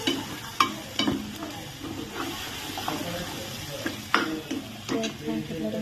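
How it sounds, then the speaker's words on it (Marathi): Onion-garlic paste with whole spices frying in hot oil for paneer masala, a steady soft sizzle and hiss with occasional stirring scrapes and small pops, fairly close, with talk present in the background. "कांदा लसूणचं वाटलेलं मिश्रण टाकूया आणि ते छान असं तेल येतोवर"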